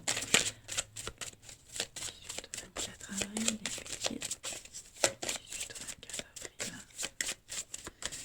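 Tarot cards are shuffled and drawn in a series of soft, rapid riffling and flicking sounds, close by and fairly quiet, while someone talks over them.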